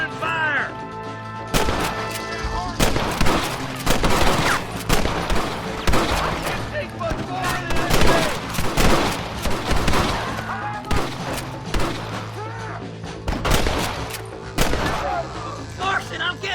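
Repeated gunfire bursts and scattered shots from a Red Dead Redemption shootout, loud and close, with busy overlapping cracks and booms throughout and game voices shouting among the shots.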